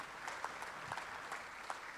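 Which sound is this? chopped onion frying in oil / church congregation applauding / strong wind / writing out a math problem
church congregation applauding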